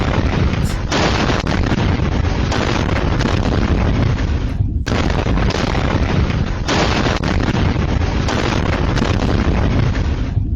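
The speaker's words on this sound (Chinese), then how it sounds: "对，爆炸声音，然后现场火势非常大，这样子。" A big explosion and fire at a Tainan site holding waste furnace slag and aluminium material makes a loud, continuous roaring din broken by repeated heavy blasts and bursts, with no talk.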